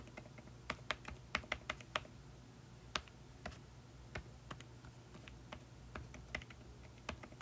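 Rapid keystrokes on a computer keyboard as an email address is entered, irregular clusters of sharp clicks at close range over a low steady hum, with short pauses between bursts.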